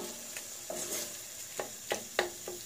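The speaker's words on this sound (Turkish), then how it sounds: "kavuralım salça ile beraber." Tomato and pepper paste is sautéed in a pot for Turkish turşu aşı soup, giving a steady low sizzle broken by several sharp scraping stirs of a spoon against the pot, close and without speech.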